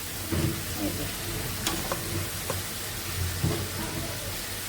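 Vegetables such as water spinach leaves, pumpkin, jackfruit seeds and green banana sizzle in spiced oil, with a steady low frying hiss broken by a few sharp stirring clinks and scrapes, close and alone without talk.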